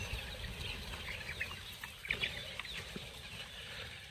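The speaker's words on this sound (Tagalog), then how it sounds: "pwede ko na pong pawalan yung mga sisiw natin" Chicks clucking and peeping after being let out of their enclosure, a scatter of small chirps and clucks over a steady low rumble, fairly close with no talking.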